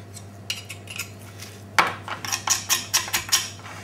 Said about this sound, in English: so we're scraping the bones down here now like that